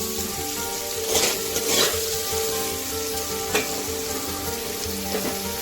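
Potatoes sizzle and fry steadily in a pan with spices, salt, turmeric and ginger paste while being stirred for a Bengali vegetarian aloo dum, with a few louder scraping strokes of the spoon over the constant close sizzle.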